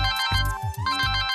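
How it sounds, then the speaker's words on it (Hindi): A phone ringtone plays loud and close, a bright repeating electronic melody with steady tonal notes over a low pulsing beat, heard alone. "आ गया फोन।"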